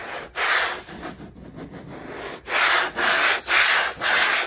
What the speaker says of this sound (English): This is like wet sanding.